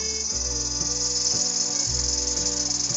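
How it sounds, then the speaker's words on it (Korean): A dense, loud insect drone buzzes steadily throughout, a continuous high-pitched shrill over a low background hum. "매미 소리가 들리십니까?"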